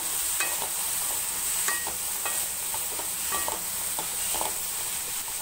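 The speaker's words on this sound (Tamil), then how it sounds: "உருளைக்கிழங்கு, நல்லா வதக்கிடலாம்." Potatoes sautéed and stirred in a pan for a vegetable stew, with a steady frying hiss broken by repeated scraping strokes of a spoon at an even pace.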